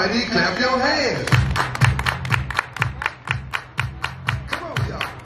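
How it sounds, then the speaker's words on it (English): A crowd at a blood drive event claps in steady unison, a long run of sharp, evenly spaced hand claps over music and voices calling out. "Everybody clap your hands."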